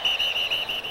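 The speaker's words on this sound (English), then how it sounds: "And whistles." A referee's whistle at a 1999 NFL preseason football game between the Raiders and Cowboys: one sustained, shrill blast lasting about a second. It wavers slightly in strength, with the crowd faint beneath it.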